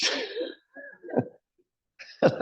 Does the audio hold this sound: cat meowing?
no